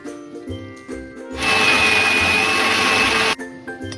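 A kitchen mixer grinder whirs loudly for about two seconds as it grinds a masala paste of spices and roasted gram for sprouted horse gram sambar, starting and stopping abruptly amid quieter kitchen clatter.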